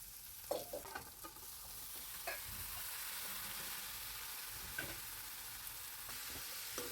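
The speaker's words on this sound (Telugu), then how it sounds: "వేయించుకొని మనం ముందుగా బాయిల్ చేసుకున్న చిక్కుడుకాయ అయితే ఇందులో మొత్తం వేసేయాలి" Boiled broad beans fried and mixed in a pan for curry, a constant low sizzle broken by intermittent scraping stirs of a spoon, close but quiet, with no talk.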